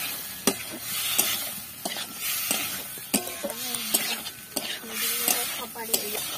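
A spoon scrapes and clanks against a pan as boiled potatoes are stirred into a fried spice mixture for a potato curry, with a steady sizzle underneath. The knocks come close and repeat irregularly, and a faint voice can be heard briefly.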